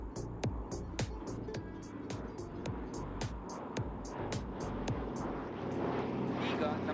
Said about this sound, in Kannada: we present to you the Goony Bird, savior of Kashmir, the one and only Dakota